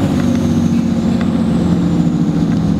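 A Cummins diesel engine in a Dodge Ram truck idles with a loud, close, steady low rumble and even throb, running alone without any voices.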